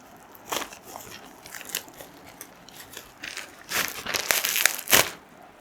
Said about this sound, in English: It also has got bubble wraps inside it. Are you ready for ASMR number 2?